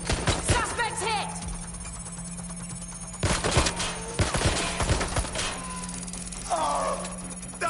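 Rapid bursts of gunfire from a firefight in the video game Watch Dogs: Legion, sharp cracks clustered near the start and again midway, with a steady electronic hum and brief game voice snippets mixed beneath.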